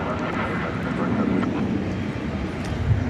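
A Boeing 787-8 Dreamliner airliner at DFW Airport at night gives a steady, broad jet roar at moderate distance, heard alone without talk.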